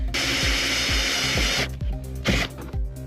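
A power drill bores holes into a Ford Crown Victoria NYPD police car, running loud and continuous for about a second and a half, then stopping and briefly whirring again amid clicks and clunks.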